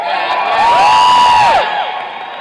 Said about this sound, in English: you're all cheering now